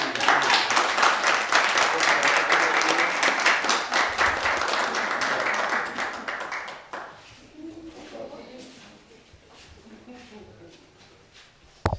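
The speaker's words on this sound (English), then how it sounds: "You give them a round of applause." A dinner crowd applauds the people who provided the meal, loud dense clapping for about six seconds that then thins to scattered claps and murmuring talk before a final sharp sound.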